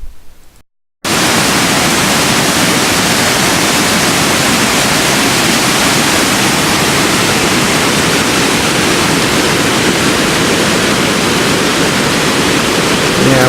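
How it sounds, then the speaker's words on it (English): Water rushes through at Catherine's Landing in a loud, unbroken hiss that sets in after a brief quieter moment at the start and then holds steady and close. "would you say that's some water coming through there?"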